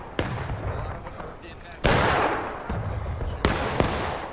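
Musket volleys in the Civil War shooter War of Rights, a loud crack at the start and another near two seconds, with more shots at three and a half seconds and a continuous rumble of distant battlefield fire between them.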